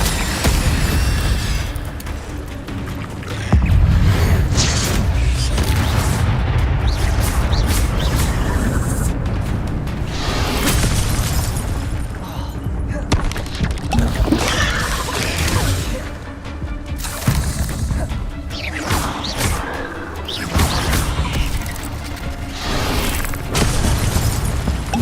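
Incendio fire spells burst repeatedly in Hogwarts Legacy, a dense run of booming, crackling explosions and crashes with busy combat effects that persist loudly across the whole stretch.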